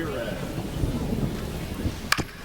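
Steady rain hisses over a stadium during a baseball game in MLB The Show 25, a continuous wash of noise with a brief sharper crack near the end and faint voices underneath.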